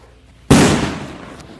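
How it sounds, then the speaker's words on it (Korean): A bomb disposal robot blasts high-pressure air to detonate an explosive buried in a road, giving one sudden loud close explosive burst after a quiet start, then a long rumbling decay with debris noise. "이 로봇은 고압의 공기를 순간적으로 내뿜어 도로에 묻은 폭발물을 폭파시킵니다."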